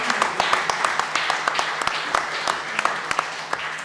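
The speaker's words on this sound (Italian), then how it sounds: "Vi prego, fate un applauso." An audience at a Rotary Club Venezia presentation applauds the makers of a working Lego model, individual sharp claps standing out over a steady crowd patter.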